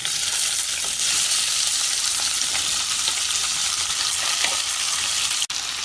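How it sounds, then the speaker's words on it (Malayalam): Boiled chickpeas with green chilli and a pinch of asafoetida fry and get stirred in a pan, a loud continuous sizzle with soft scraping strokes, close up, cut by one brief dropout near the end. "എല്ലാം കൂടി ഇളക്കി മിക്സ് ചെയ്യാം."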